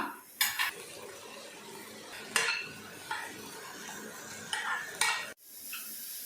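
A spoon stirs avarakkai (broad bean) poriyal in a pan, with a few sharp metallic scrapes and clinks spaced over a faint background sizzle, close by and without talk.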